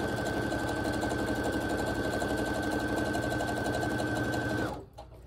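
A sewing machine stitching a jelly roll strip onto quilt blocks runs at a steady fast hum with a constant whine, loud and close, then stops abruptly near the end.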